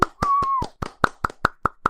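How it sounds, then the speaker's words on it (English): One pair of hands claps in a quick, even rhythm, about nine crisp claps close by, with a brief whistle-like tone near the start. "give you a round of applause for our first sponsor of the show."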